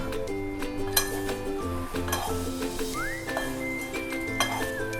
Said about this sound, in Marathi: कढाई घेतलेली मी त्याच्यामध्ये आता हे पोहे आपण घेतलेले चाळून भाजणार आहोत